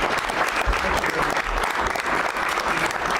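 Sustained applause from a crowd, loud and dense with steady clapping throughout and no clear speech over it.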